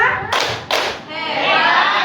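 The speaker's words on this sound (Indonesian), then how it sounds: "Tepuk 2." Standing group of women doing a second clap pattern in a school ice-breaking game: two sharp, loud bursts of many hands clapping together in quick succession, followed by voices chattering.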